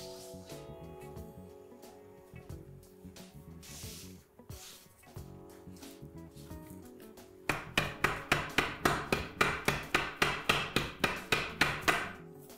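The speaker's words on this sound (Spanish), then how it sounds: "Unos buenos golpes para nivelar." A cake mould holding chocolate coffee mousse layers is tapped against a surface to level it, a series of about a dozen sharp, evenly spaced knocks in the second half, preceded by quieter handling and scraping.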